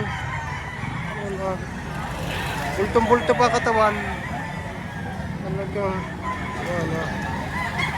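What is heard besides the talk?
roosters and fowl at a chicken market in Lipa, Batangas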